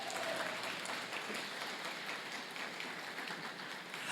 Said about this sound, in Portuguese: Pode aplaudir para valer.